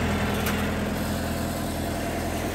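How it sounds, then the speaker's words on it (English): A tractor engine, just repaired and restarted, runs steadily at a low idle with a continuous broadband rumble and hiss, fairly loud and close, with no talking. "Back in tractor action."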